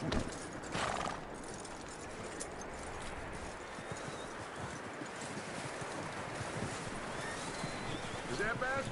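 Horse hooves clip-clop steadily in Red Dead Redemption 2 as the animal moves along, with a whinny breaking through near the start; ambient outdoor noise fills the background and speech-like voice sounds are present.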